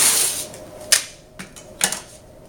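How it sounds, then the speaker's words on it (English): Hospital tape is pulled and pressed down close by, a hiss of peeling at the start followed by three sharp, brief crackling snaps spaced apart over quiet background. "I'm just using some hospital tape that I have handy."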